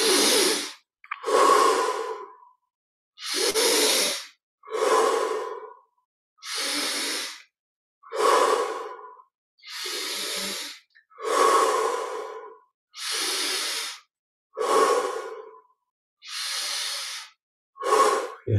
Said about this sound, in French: 20 respirations profondes.